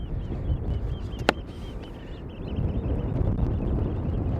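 Strong gusty wind buffets the microphone outdoors on a very windy day at a model airplane flying field, a low rumbling roar rising and falling, with a sharp click near the start.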